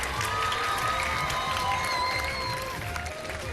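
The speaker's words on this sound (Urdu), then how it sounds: "چلے جی تالیاں بجا دیں" A studio audience at a live Ramadan television show applauds in a steady, dense burst of clapping with some cheering and children's voices mixed in, loud and sustained throughout.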